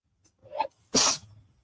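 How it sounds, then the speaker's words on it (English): A single loud sneeze bursts out close by, preceded by a short sharp intake of breath, then quiet. "Hold on, I gotta sneeze."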